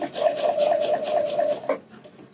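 Close and loud, a sewing machine stitches a bra's elastic seam in a fast rhythmic chatter for about a second and a half, then stops abruptly with a final clunk into quiet.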